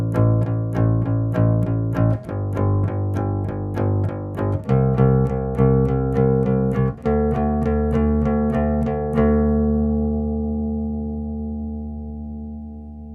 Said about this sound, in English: The first bass line we're going to learn is fairly typical of something that you would hear on a pop or